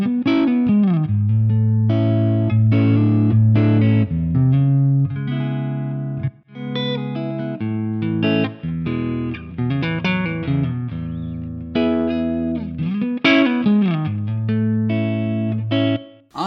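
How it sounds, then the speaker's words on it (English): A Jazzmaster electric guitar runs through the Mercuriall Ampbox Creamy Blues preset with the overdrive off, giving a clean, chimey tone. Chords and single notes ring out in phrases with short pauses between them, up close and with no voices. "let's take a look at some of the tones that I got with my Jazzmaster and see what some of the chimier tones sound like in Mercuriall Ampbox"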